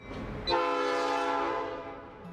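A loud, sustained train horn from the Lehigh Gorge Scenic Railway departing the station in downtown Jim Thorpe blasts and holds steady for a couple of seconds, then starts to fade, with rumbling rail noise beneath.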